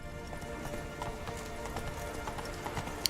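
Roach the horse gallops in The Witcher 3, its hooves beating a quick, quiet, steady rhythm that carries on alone throughout.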